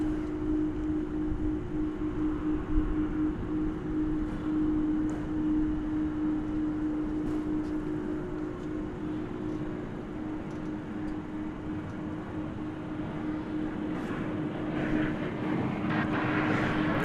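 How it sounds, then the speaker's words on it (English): A jet airliner takes off from runway 18 left on the west side of DFW Airport at night, heard as a steady, fairly distant engine roar and rumble that holds throughout without speech. "tonight, at least with this one, we get to see it take off right here on the west side on runway 18 left."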